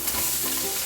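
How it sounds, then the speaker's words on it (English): Tomatoes, onion and garlic sizzle and crackle in a hot pan, a steady close frying hiss with stirring across the short span, no voices. "So we're just gonna saute this."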